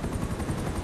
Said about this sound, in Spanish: Tres helicópteros.